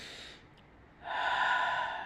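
A single deep breath, with a soft exhale followed by a strong, close inhalation drawn in over about a second, heard alone without any talking.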